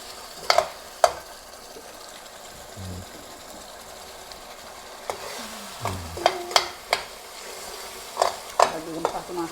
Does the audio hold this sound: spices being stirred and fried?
yes